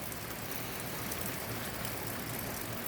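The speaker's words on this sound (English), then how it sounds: "This is July 16th, and it's still raining." Continuous rain falling outdoors in July, a uniform broadband hiss of drops without breaks or voices, soft and steady throughout.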